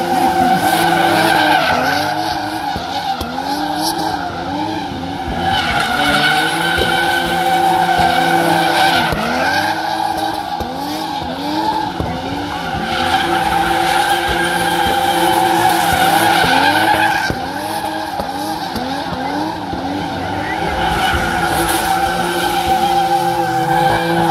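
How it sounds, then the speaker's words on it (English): Drift cars skid around a track at a JK Tyre motorsport festival in Shillong, India, with loud, continuous tire squeal over engines revving and wailing up and down close by for the whole stretch. "The drifters will come here to the track."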